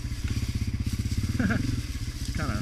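A Honda CRF250F dirt bike rides off trail through ungroomed woods, its engine close and loud with a fast, even throbbing pulse, briefly revving higher twice, while someone talks over it.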